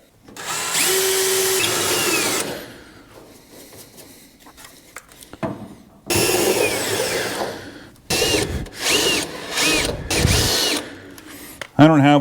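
Power drill boring a hole through sheet metal while fitting a coolant overflow tank, in loud whining bursts that start and stop several times, with short pauses and faint handling noise between them.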